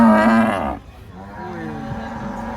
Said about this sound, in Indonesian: sapi raksasa. Jumbo sekali guys.